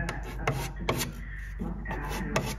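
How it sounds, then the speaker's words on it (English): A Festool detail sander working into the corners of a badly damaged wooden crank-style phonograph cabinet, a steady close rubbing hum broken by short sharp scraping strokes, with no talking. "I'm just gonna get my Festool sander going with the detail sander so I can get into the corners"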